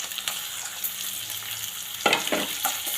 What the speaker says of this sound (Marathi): त्याला कांदा थोडासा लालसर होईपर्यंत भाजायचा.